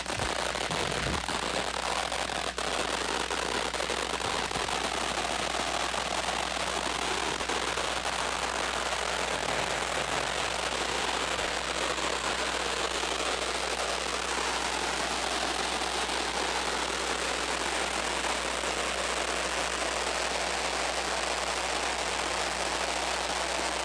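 A lit firework crackles in a dense, continuous barrage of rapid pops, loud and sustained from start to finish, like a long string of firecrackers burning through outdoors.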